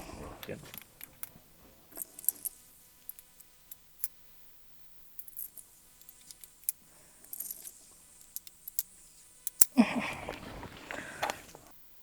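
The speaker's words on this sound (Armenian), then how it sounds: "Լիցքավորենք զենքը 5 փամփուշտ" Five cartridges loaded one by one into an Amadeo Rossi R352 .38 Special revolver: faint, scattered metallic clicks and clinks, followed by a sharp click and a brief burst of handling noise, with a voice speaking quietly at times.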